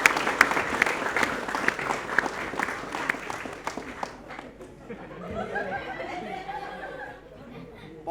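Applause for two junior high school teachers at a school event, dense clapping with some laughter and chatter for about four seconds, then fading into a crowd murmur with speech over it.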